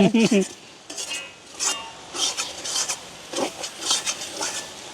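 An egg frying in a pan in a village kitchen is stirred continuously, the utensil scraping and clinking against the metal in uneven strokes over a faint sizzle, close and clear, with a brief voice at the start.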